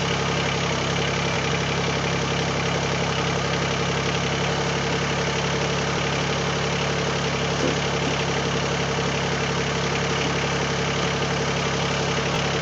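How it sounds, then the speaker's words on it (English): A Mahindra eMax20s HST tractor runs steadily while its backhoe outrigger is raised hydraulically, a constant close engine drone with a faint hydraulic hum and no speech. "So I'm going to raise a little bit the outrigger."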